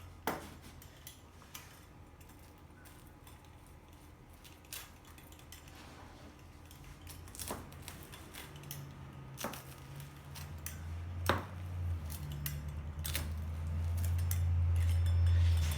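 A hot everything-bagel pizza being sliced, with repeated sharp cutter clicks and scrapes on a pan, growing into a louder scraping rumble toward the end; no voices.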